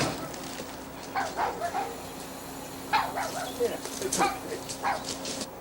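A puppy gives a few soft, short barks and yips scattered over several seconds, fairly faint against a steady outdoor hum.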